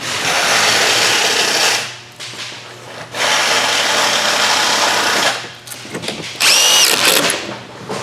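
A power drill whirs in several long bursts, driving screws tight during a Stressless Emily and Mary recliner switch replacement. The bursts are loud and close, with brief pauses and a squeaky whine near the end, and no one speaks.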